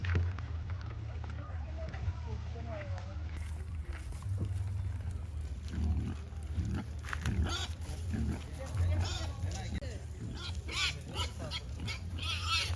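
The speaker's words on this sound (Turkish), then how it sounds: "domuzla karşılaştık lagonun içerisinde" Pigs grunt and snort repeatedly nearby amid outdoor rumble on the beach at Ölüdeniz, Fethiye, by the lagoon, with people talking in the background.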